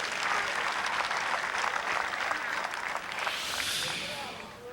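Golf gallery at the 1999 Motorola Western Open applauding Tiger Woods' birdie, a steady dense wash of clapping that holds through and tapers off near the end.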